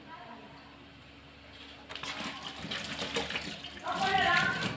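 Water runs from a kitchen tap while coriander leaves are washed. It starts after a quiet stretch as a steady splashing gush that grows louder near the end.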